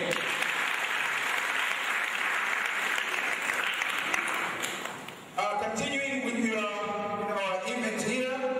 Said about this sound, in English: So clap it once again.